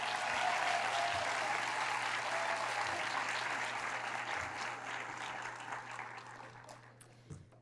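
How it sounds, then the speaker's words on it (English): An audience at the 2019 Excellence in Education awards ceremony for the School District of Manatee County gives a sustained round of applause for honoree Amanda, loud at first and then gradually tapering off. "How about one more round of applause for Amanda?"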